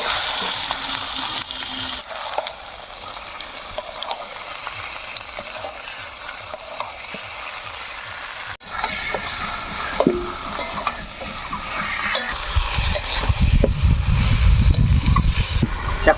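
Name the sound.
chicken added to sizzling fried masala and stirred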